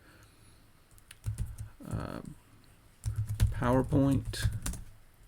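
Quick bursts of close keyboard clacking as a search is entered into a computer, broken by stretches where someone speaks over and between the keystrokes.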